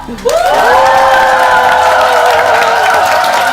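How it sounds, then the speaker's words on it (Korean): A studio audience welcomes a company chairman onto a Korean corporate talk show with loud, sustained cheering and applause, full-bodied crowd noise with high whoops held steady for several seconds after a sudden start. "큰 박수로 만나볼까요?"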